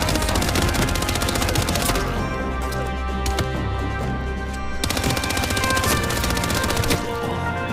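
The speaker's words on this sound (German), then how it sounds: "Hier hat irgendjemand geschossen!" Dense video-game gunfire, fast rattling shots stacked over loud background game music and noise, running continuously with a brief thinning partway through before resuming.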